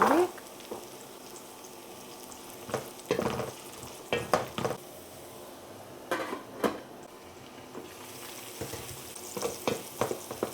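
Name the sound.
onion and diced carrots frying in a pan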